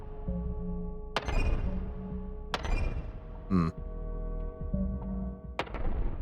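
Bombs explode in a relaxing bomb-dropping incremental game, loud booming blasts spaced a second or so apart over a steady droning game soundtrack with tonal chimes.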